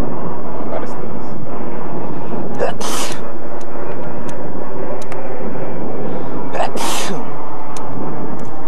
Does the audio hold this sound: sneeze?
yes